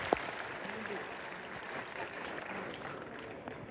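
Audience applause fills an auditorium at a live university event in Hisar, a steady wash of clapping throughout, with a brief sharp sound near the start.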